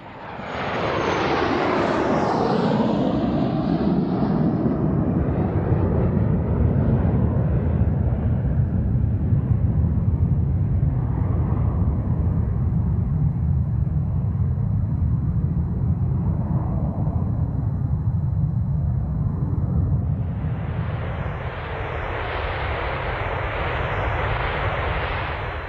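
A British TSR2 jet aircraft's engines roar loudly and continuously, a broad heavy rumble with a rising whine at the start that eases, then a harsh high-pitched blast swelling near the end; no voices.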